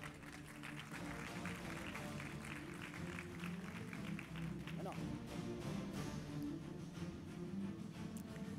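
An audience at a summit awards ceremony keeps up steady, moderate applause throughout, faint and distant, with voices murmuring underneath.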